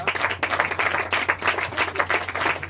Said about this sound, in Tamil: இன்னும் பலத்த கரகோஷங்கள்.